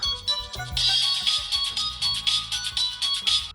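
A mobile phone ringtone plays a bright, repeating electronic melody at an office workplace, loud and steady for several seconds with a low background hum underneath.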